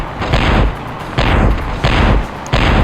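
Car-mounted dual cannons in the Interstate '76 vehicle combat game fire in four heavy booming bursts, each a sharp broadband blast with a decaying tail, spaced roughly evenly and loud up close.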